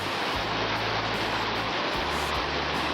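Loud, continuous rushing water roars close by, like river rapids on the Southern Bug river, with a low rumbling undertone throughout.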